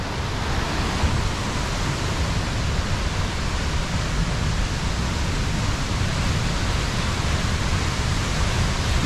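Waterfall at Pont d'Espagne in the Pyrenees, a steady, dense roar of falling water rushing continuously and evenly at close range with no other sounds.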